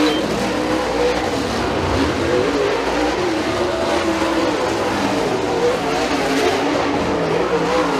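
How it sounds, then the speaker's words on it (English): Super late model race cars roaring around a race track during a heat race, a dense continuous engine drone from several cars with steady loudness throughout and no talk over it. "our second and final super late model heat race"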